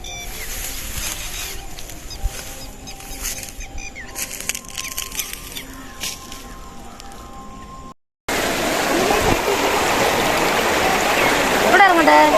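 Water rushes steadily in a canal stream at the Kanal Palam British Bridge in Palakkad, Kerala. It is softer under some talk at first, then becomes a louder, close, continuous roar.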